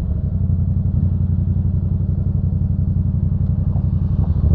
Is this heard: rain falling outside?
no